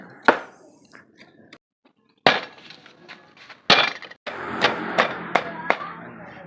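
Edible wood stems being chopped into pieces for a Tai rural dish, with a run of loud, sharp blade strikes separated by short pauses and quieter handling sounds, heard close up without talk.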